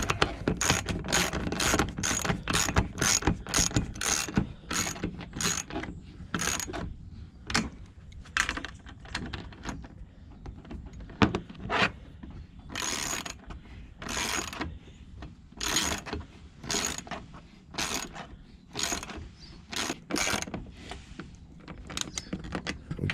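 Ratchet clicking in quick repeated bursts while bolts are tightened on a truck's light mount, close and steady with short pauses between strokes.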